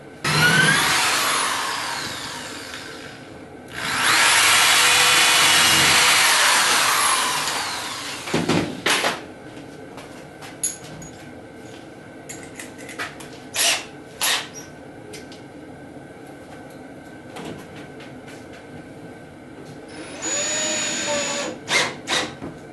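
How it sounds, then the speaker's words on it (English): A power drill boring holes through the center box of homemade kitchen cabinets into the side boxes: two long loud whirring runs, then a string of short bursts and clicks, and a final burst near the end. "I'll drill 4 holes through the center box into the side boxes, put screws through them"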